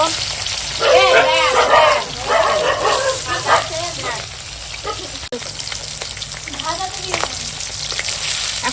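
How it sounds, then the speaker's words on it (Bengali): Fish sizzles and spits in hot oil for a Bengali rui fish curry, a steady broadband crackle running throughout while someone talks over it. "তেল গরম হয়ে গেছে এখন মাছ ভেজে দেবো"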